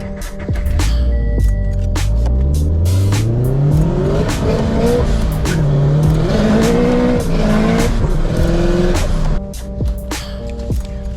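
Car engine driven hard on the way to an O'Reilly auto parts store, loud and close from inside, with rising revs through several gear changes and steady road roar throughout.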